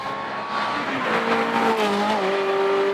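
A Ferrari race car at full throttle on the Gurston speed hillclimb, its engine note climbing steadily through the gears as it passes close and loud.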